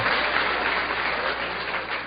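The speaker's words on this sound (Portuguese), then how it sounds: "Essa merece aplausos." Lecture audience breaks into sustained applause, a dense, even wash of many hands clapping at once, loud and close with no speech over it.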